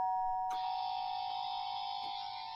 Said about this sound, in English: I think he's ringing the doorbell.